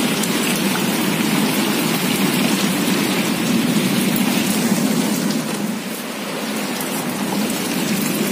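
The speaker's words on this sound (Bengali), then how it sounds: "এত জোর বৃষ্টি হচ্ছে এখন" Heavy rain pours down steadily over flooded, waterlogged ground around a house, a dense continuous hiss that stays loud throughout, with no talking.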